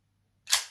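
Slide racked on a Kimar 92 9mm PAK blank pistol to chamber a round, heard as a single sharp metallic clack that rings briefly and decays after a silent lead-in, close and clear.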